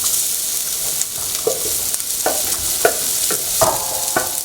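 Onion frying in a pan for a pork curry, a bright continuous sizzle with repeated spatula scrapes and taps every half second or so, close and clear with no voices.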